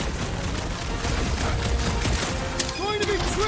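Rapid gunfire rattles through a Guardians of the Galaxy battle, a continuous dense crackle of shots with game effects and ringing tones rising near the end.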